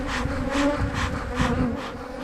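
Honey bees at an opened hive during a December yard inspection hum steadily up close, a dense swarming drone with pulsing swells and no talking.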